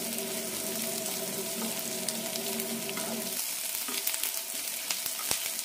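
Onions sizzle and fry steadily in a pan for a spicy-sour bitter gourd curry, a continuous dense crackle with brief faint clinks, heard alone with no voices.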